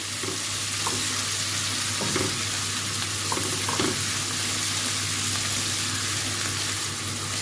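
Garlic and onion frying in a pan for an Alexandrian liver and sausage dish, a steady close sizzle running throughout with occasional stirring scrapes.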